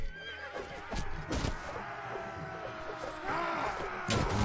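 Horses neighing and whinnying in the medieval combat game Mount&Blade Warband, several loud whinnies with hoof clatter over a busy battle soundscape, no talk.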